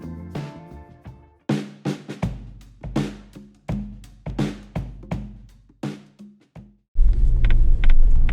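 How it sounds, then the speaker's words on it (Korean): A series of sharp knocking and clattering rattles inside a Ford Bronco hardtop SUV after off-roading, irregular and fairly close, followed by a loud steady rumble toward the end. "지금까지는 잡소리 하나도 안 나다가 한 30분 정도 오프로딩 타니까 바로 잡소리가 들립니다"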